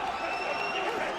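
Arena crowd at UFC 95 cheering and applauding in a steady, dense roar that fills the whole moment, with commentators talking over it.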